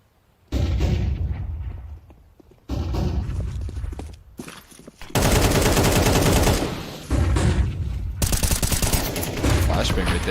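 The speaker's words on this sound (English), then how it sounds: "Flashbang right there." Gunfire in a competitive esports match between NRG and Marsborne, with a flashbang in the mix. Loud rapid bursts of shots and blasts arrive in several dense volleys with brief gaps, under a caster's commentary.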